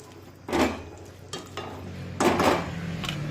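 Ladle stirring ridge gourd curry in a kadhai after a splash of water goes in, giving three distinct scraping, clattering strokes against the pan with a low simmering hiss between them, close and without talk.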